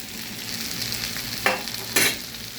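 Okra sizzles in a hot pan as it is stirred, steady frying hiss broken by two quick scraping stirs, close and clear with no talking.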